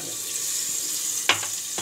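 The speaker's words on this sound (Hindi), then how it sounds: "और इसमें अब हम डालेंगे इसमें पानी, थोड़ा कम ही" Water pours steadily into a pressure cooker holding cooked dum aloo masala, a continuous rushing splash followed by a couple of sharp knocks of the vessel near the end. No one talks.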